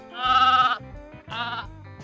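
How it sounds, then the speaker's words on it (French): Two sheep bleat up close, a long wavering bleat followed by a shorter one, loud and clear with no talking. "On dit que le mouton bêle."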